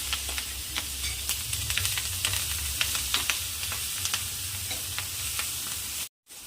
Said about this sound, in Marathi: हे बघा असे डाग पडेपर्यंत छान याला तळून घ्यायचं आहे